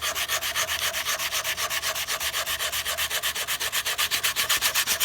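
A wooden guitar neck is hand-sanded with 120 grit sandpaper in quick, even back-and-forth strokes, a close, rhythmic scratchy rasp with no talking.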